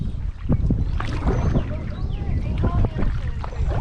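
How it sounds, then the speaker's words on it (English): Wind buffeting a canoe broadside on a park lake in Gainesville, Texas, a steady rumbling gust on the microphone with splashes and knocks of the paddle and hull, under people talking. "The wind's hitting us broadside right now"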